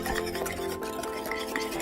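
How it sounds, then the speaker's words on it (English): Sugar and egg yolks being whisked together for lemongrass creme brulee, a quick repeated scraping and tapping of a whisk against a bowl, close and steady. "And then I'll throw in the sugar. And then we'll just start whisking them together."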